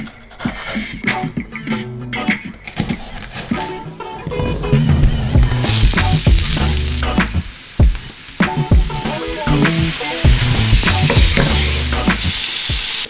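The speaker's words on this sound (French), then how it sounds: "Dès que l'huile sera chaude, je vais pouvoir mettre directement les légumes à faire revenir" Bell pepper and onions sauté in hot oil in a pan, a steady loud sizzle broken by repeated scraping stirs and clacks of a utensil, close up and continuous with no talking.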